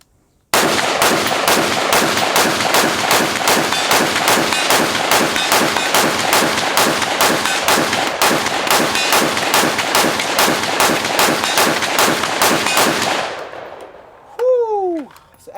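A Law Tactical ARIC rifle fitted with an MREX handguard fires a long, rapid string of loud, evenly spaced shots for about twelve seconds, then the echo fades and a brief metallic clatter follows.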